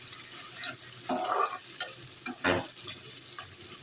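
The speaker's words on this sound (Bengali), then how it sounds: "আমি চুলা তেল বসিয়ে পেঁয়াজ কুচি দিয়ে দিলাম" Chopped onions fry in hot oil on a stovetop, giving a steady sizzle with a few louder bursts of stirring, close and continuous with no voices.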